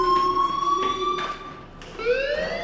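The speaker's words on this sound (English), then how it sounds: "Hey, do you hear that fire alarm?" A fire alarm ringing in a video game: a steady, tonal electronic wail that dips and then sweeps back up, loud and close, with no talking over it.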